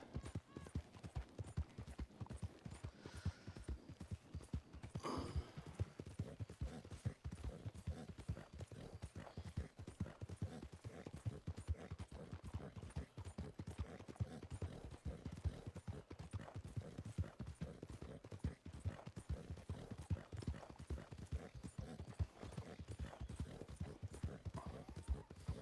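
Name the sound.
horse hooves clip-clopping in a video game (WildRP)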